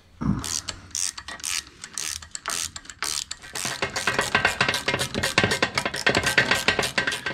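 A hand ratchet clicks in quick bursts while loosening bolts on the air box of a John Deere 1050 tractor with a Yanmar engine. The clicking starts in short spaced runs and builds to a fast continuous rhythm, close and loud, with no talk.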